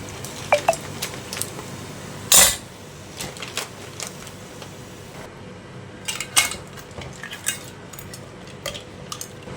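Crab being stirred into masala in a pressure cooker pot for a spicy Maharashtrian crab curry, with scattered metallic clinks and scrapes of a spoon against the pot, one sharp knock near the start and quieter clatter over a low background.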